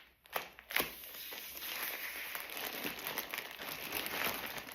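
A vacuum-packed cushion in plastic packaging being opened, with a few sharp crinkles early on, then steady soft rustling and crackling of plastic close by as the flat cushion starts to fill with air.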